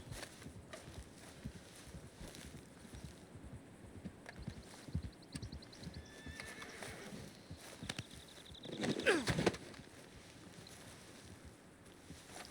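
Horse hooves clop in the Red Dead Redemption 2 video game, with soft irregular steps under wind and ambient outdoor noise, then a louder breathy burst near the end.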